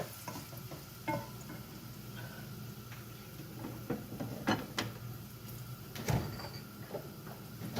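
Whole garlic fries in a pan for lehsuni palak and is stirred steadily, making continuous sizzling with rhythmic scraping strokes and a few sharper clatters of the spoon against the pan.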